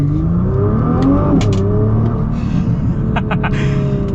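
A loud Nissan GT-R engine revs and accelerates, its pitch rising then dropping between gears, a steady close roar throughout without speech.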